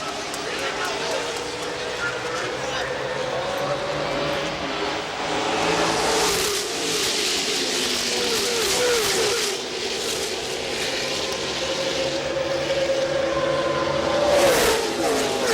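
NASCAR race cars roar around Talladega after a restart on lap 109, a dense, continuous engine drone with rising and falling revs as cars pass, loud throughout, mixed with crowd and track noise.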